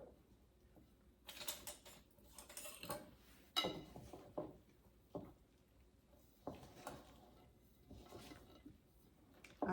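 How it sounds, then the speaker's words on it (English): A spatula scraping the sides of a bowl and folding soft dough for holiday rolls: quiet, irregular scrapes and squishy thuds, close up with pauses between strokes. "I scrape the side of the bowl and then do a little folding"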